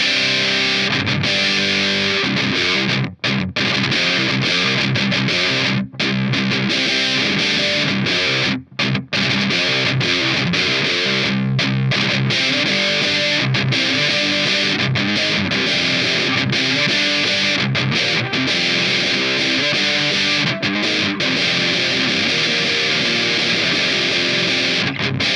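An electric guitar played through a ProCo Roadkrill distortion pedal gives a dense, loud, heavily saturated wall of tone, with chords ringing continuously and a few short gaps between strums.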